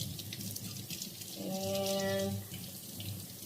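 Tap water runs steadily into a kitchen sink while collard greens are rinsed, swelling louder mid-clip as the stream hits the leaves, with a brief spoken word at the start.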